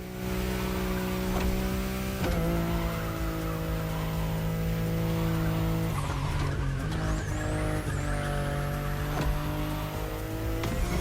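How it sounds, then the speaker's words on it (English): A BMW i8 in The Crew Motorfest racing game drives with a loud, steady engine drone that shifts pitch, and tires squeal through a long skid in the middle, with no voices over it. "The BMW i8 is a car that stands out from the crowds."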